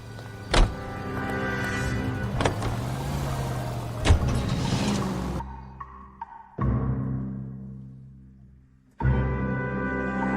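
A car drives in L.A. Noire, its engine humming with a rising and falling pitch and a few sharp clicks. The sound drops out briefly twice before the engine returns loud again.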